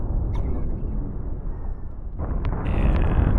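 A spinal cannon fires in the space game Infinity: Battlescape, a heavy sustained low roar that holds steady, then swells again with a brighter, harsher surge near the end.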